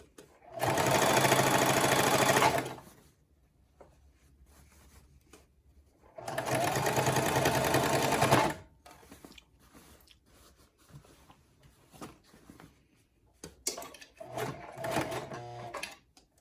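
A Singer Classic sewing machine stitches a pant hem in heavier fabric, with two loud, rapid bursts of stitching separated by quiet handling noises, then a shorter, uneven run near the end.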